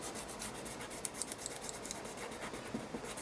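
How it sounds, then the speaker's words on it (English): A finger rubs paper laid over texture paste with soft, continuous scratchy strokes in a quick repeating rhythm, close and quiet, with no other sounds. "I'm just going to gently rub it with my finger"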